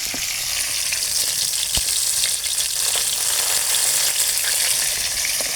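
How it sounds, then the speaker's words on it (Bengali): Pieces of silver carp sizzle in hot oil in an iron wok on a rural wood-burning stove, a continuous close crackle with a few sharper pops and no talking. "ঠিক সেভাবে আজকে মাছ ভাজা হচ্ছে"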